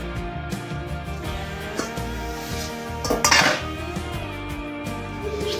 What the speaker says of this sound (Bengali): গাজরগুলো ভেজে নেওয়ার পর একটু ঢেকে দিচ্ছি যেন একটু ভালোভাবে সিদ্ধ হয়ে যাক।